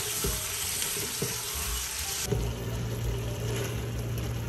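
Mutton frying in a karahi gives a steady, loud sizzle with crackling throughout, plus a few soft clinks early on and a deeper bubbling tone toward the end.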